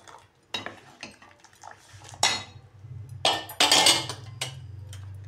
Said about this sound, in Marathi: छान असं परतून हलवून घ्यायचं आहे।